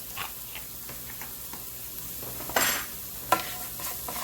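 Vidalia onions seasoned with salt and cracked black pepper sweat in a pan with a steady, soft sizzle, punctuated by scattered spoon scrapes and two sharper clattering strokes.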